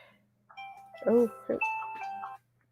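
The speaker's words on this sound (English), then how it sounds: "That's my alarm to get out of here." An alarm tone sounds, a steady chiming pattern with sustained ringing notes lasting a couple of seconds, with a brief spoken exclamation over it.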